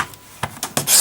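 Cutting off material for a book lace holder, a few short scraping cuts in quick succession followed by a longer sustained rasp, close and fairly loud.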